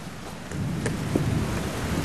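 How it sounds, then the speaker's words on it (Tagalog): Steady rain and a low rumble of thunder fill the air, with a few sharper cracks rising briefly above the continuous wash of falling water. "Umuulan."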